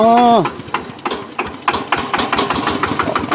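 A modified 4x4 farm tractor engine fires up with a brief rising whine, then settles into a steady, fast chugging idle with rhythmic knocking, loud and close.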